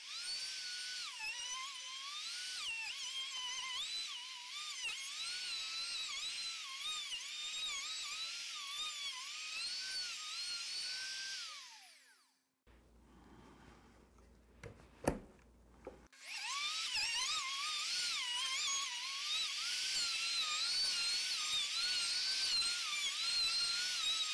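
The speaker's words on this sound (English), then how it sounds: "I'm adjusting the depth to go down another 1/8 of an inch, route it down, and we'll go back on another pass" A router cuts down into rotten wood in a long, high-pitched whine that wavers as it is worked across, pauses for a few seconds with a single sharp tap, then resumes just as loud.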